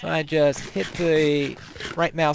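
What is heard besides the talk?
None of the usual background noises is heard.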